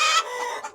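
A hen clucks in a tiered cage on a cold winter day, one short close cluck, fairly quiet and alone.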